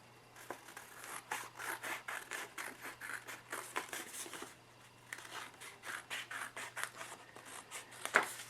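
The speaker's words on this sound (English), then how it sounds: "And then I'll just cut the paper around that." Scissors snipping through thin origami paper to trim a square, a steady run of short crisp cuts with light rustling, close and fairly quiet, with no talking.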